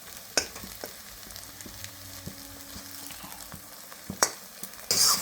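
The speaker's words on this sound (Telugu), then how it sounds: "ఇప్పుడు అంతా కలిసేటట్టు బాగా వేయించుకోవాలి" Eggs fry in a pan with cabbage, onions and green chillies, a soft steady sizzle broken by scattered clicks and knocks of stirring, with a louder hiss burst at the end.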